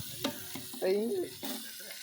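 Green chillies dropped into hot oil in a pan, a soft sizzle with stirring scrapes and a few clinks, close and fairly quiet.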